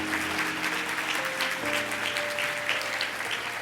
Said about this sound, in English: Let's show them our appreciation with a big round of applause